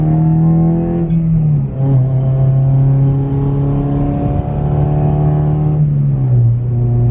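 Supercharged Honda Civic Si with Skunk2 cams and a full race exhaust, heard from inside the car: a loud, steady engine drone that climbs as it pulls through gears, dipping briefly at a shift, with a faint metallic rattle.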